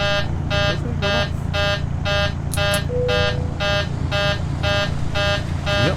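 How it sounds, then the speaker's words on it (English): A PMDG 737 cockpit alarm in a flight simulator game sounds as a loud, rapid, regularly pulsing electronic beep, repeating evenly over a low steady hum of cockpit noise. "We got an alarm kicking off."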